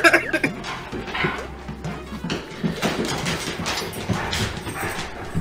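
A dog whimpers and gives short yips and barks at close range amid faint background talk and shuffling noise.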